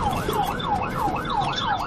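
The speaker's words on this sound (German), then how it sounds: "Die Beamten schalteten Sirene und Blaulicht ein" A police car siren wails during a high-speed chase, its rising and falling tone cycling steadily and loudly over the constant rumble of road traffic.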